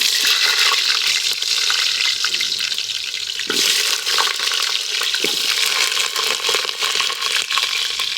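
Potato pieces fry in hot oil for mutton biryani, a steady, loud, dense sizzle that runs throughout with a few louder crackles, and nobody speaks.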